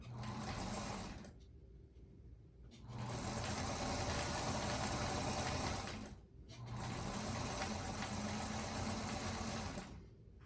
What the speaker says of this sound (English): now I'm going to sew the third piece onto the first 2. And again, just can chain stitch down.